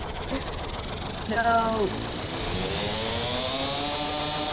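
A vehicle engine in a video game revs loudly with a rising, whining pitch that settles into a steady droning roar, while a player speaks briefly over it.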